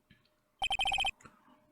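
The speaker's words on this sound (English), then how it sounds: "What is this stupid sounding ringtone?" Phone ringtone from the Phoenix Wright: Justice For All video game, a quick burst of about seven bright, evenly spaced electronic beeps, loud and alone.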